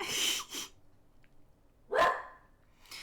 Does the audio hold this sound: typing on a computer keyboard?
no